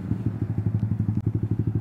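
A Yamaha motorcycle moving through traffic gives a close, steady low engine putter with evenly spaced rapid pulses, alone without talk.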